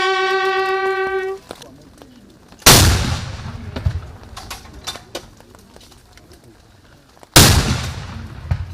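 A 17-gun salute of artillery fire at a state burial, with two heavy booming blasts several seconds apart, each trailing off in a long rumbling echo, after a brief sustained tone at the start.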